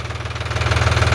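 A tractor engine runs close by, a steady low pulsing chug that grows slightly louder over the brief moment, with no talk.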